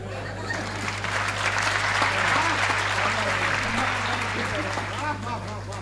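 An audience at a Hindi comedy poetry show applauds loudly and continuously for several seconds, with scattered crowd voices under the clapping and a low electrical hum from the venue's sound system.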